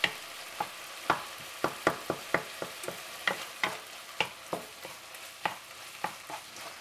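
Hamburger meat frying in a pan is stirred and scraped with a utensil, giving a series of sharp, evenly spaced clacks over a soft, steady sizzle, heard up close with no talking.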